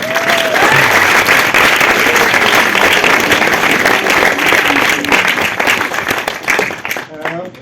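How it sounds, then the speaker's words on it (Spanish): Loud, sustained audience applause at a screenwriting pitch event, dense clapping with crowd noise and some voices and cheers underneath, tapering off at the close. "por favor, un aplauso para él."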